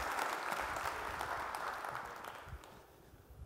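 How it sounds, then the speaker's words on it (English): Audience applause fills a large hall at an evening event, loud and steady at first, then gradually thinning toward the end. "Give him another big round of applause"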